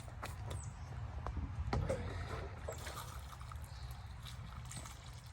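Water poured over plant cuttings of tall garden phlox set in topsoil, a soft steady trickle and splash running throughout at close range and moderate loudness, with no speech.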